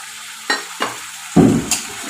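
Hot water hits a pan of masala with fish and potatoes and is stirred in, giving several short bursts of hissing sizzle, the loudest one near the end.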